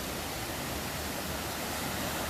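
Glacial meltwater rushing down a mountain creek, a dense, steady broadband roar of flowing water heard up close with no pauses.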